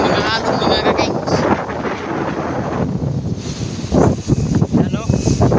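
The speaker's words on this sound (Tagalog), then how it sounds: "Pananalasa ng hanging habagat mga kaking. Sobrang lalaki ng mga alon mga kaking." Strong southwest monsoon wind roars across a microphone at sea off Isabel, Leyte, with big waves crashing and surging loudly nearby, gusts buffeting constantly and a voice talking over the din.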